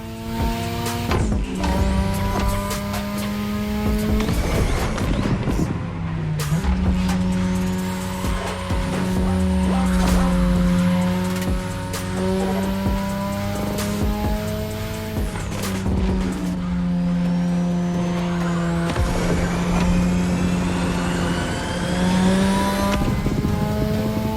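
Racing car in The Crew Motorfest tearing through a Japanese touge-style street race, its engine revving hard through repeated gear shifts while tyres squeal and skid, loud and continuous for the whole stretch.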